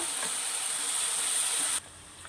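Ginger frying in oil in a pan for a chicken curry gives off a loud, steady, hissing sizzle while being stirred, cutting off abruptly near the end and leaving faint background hiss.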